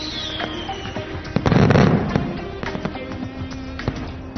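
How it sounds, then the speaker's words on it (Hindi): Cartoon fireworks crackle and pop nearby in welcome for arriving guests, with a loud burst of explosions in the middle followed by scattered bangs. "ये आतिशबाजी मेहमानों के आने पर उनके स्वागत में की जाती है"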